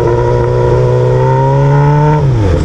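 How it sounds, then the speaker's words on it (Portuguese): A Honda Hornet motorcycle with only the exhaust pipe fitted, accelerating hard on a highway, loud and close, its engine note climbing steadily before a sudden drop as it shifts gear. "primeira vez acelerando forte a Hornet na rodovia"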